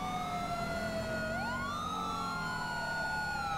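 Emergency vehicle sirens wail in a police roleplay video game, several overlapping tones gliding up and down over a low engine rumble, loud and continuous.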